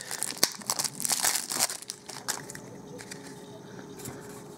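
Crinkly wrapping on a Shadows over Innistrad Magic card product being torn open up close, a burst of crackling and ripping that fades to quiet handling.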